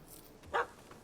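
A puppy in The Witcher 3 video game gives a single short, faint bark, brief and distant against a quiet background.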